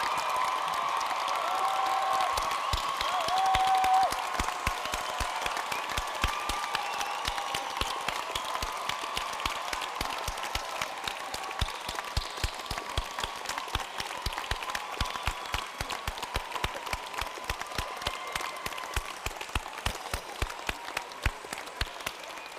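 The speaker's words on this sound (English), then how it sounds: "Please join me in offering a round of applause to all of our 2013 graduates." A large crowd at Barnard College's 2013 commencement gives the graduates sustained, steady applause, dense clapping that rolls on for over twenty seconds without a break.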